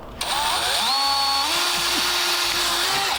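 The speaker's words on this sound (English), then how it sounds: "I don't even know what size drill bit that is." A power drill whines loudly and steadily, its pitch rising and dipping as it bites through a car's metal body, running continuously close by.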